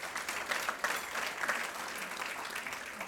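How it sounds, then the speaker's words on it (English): Audience applause at a State of the State address in Torrance, California, a steady wash of clapping hands lasting the whole moment, dense and fairly distant, with no voices over it. "I think we deserve a round of applause for that."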